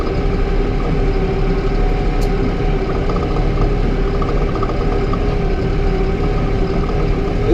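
A Massey Ferguson 4710 tractor pulls a disc harrow, its engine holding a steady, loud, close low drone with a constant hum and no pauses.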